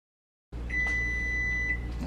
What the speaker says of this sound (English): my stove is telling me my 20 minutes is up, so I'm going to turn it off, clear that buzzer